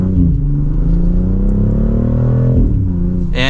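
A BMW X3 M50 in sport mode revs hard, its engine note climbing steadily in a loud, continuous roar that dips briefly before a fresh rise at the end.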